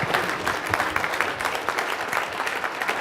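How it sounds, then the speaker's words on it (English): Conference attendees at a telecom-industry general session applaud a speaker with uneven, pulsing clapping from a modest crowd, heard alone without talk. "I ask you all for a nice round of applause for Mike Schuler coming here from NCTA."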